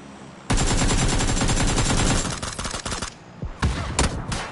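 Rapid automatic gunfire in a multiplayer shooter video game, a loud sustained burst of close shots that breaks into shorter volleys and scattered single cracks toward the end.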